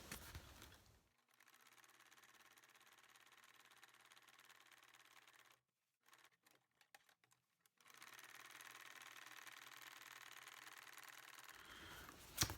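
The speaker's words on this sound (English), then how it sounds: "So let's sew this on." A sewing machine stitches fabric onto junk journal pages in steady whirring runs, stopping briefly in the middle before starting again, close and alone with no talking.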